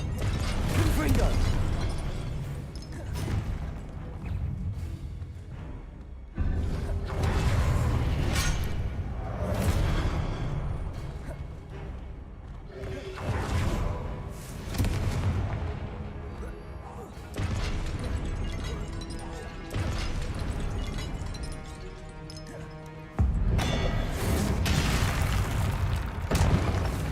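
Spell combat in Hogwarts Legacy, where a Confringo fire blast is cast among other spells: repeated booming bursts and whooshing magical impacts recur every few seconds, loud and close, with speech heard between the blasts.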